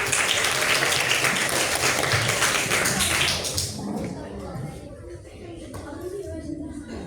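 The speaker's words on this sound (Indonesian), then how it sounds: "Beri tepuk tangan untuk kelompok 1" A class claps for a student group called up to present, dense applause for about three and a half seconds that then drops away, followed by quieter room sounds and a voice.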